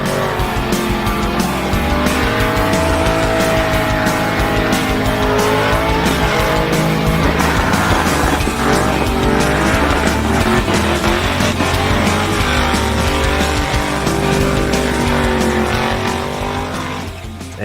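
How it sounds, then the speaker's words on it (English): Cars freestyle drifting at a burnout show, with tires squealing and skidding in long wavering wails over constant loud engine roar for about eighteen seconds, with no talk. "It's freestyle drifting"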